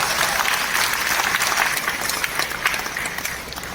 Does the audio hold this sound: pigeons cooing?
no